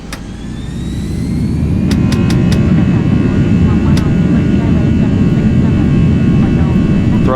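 Air China airliner engines spooling up to takeoff thrust, a loud, steady, close roar with rising whine tones, heard from inside, with speech partly under the engine noise.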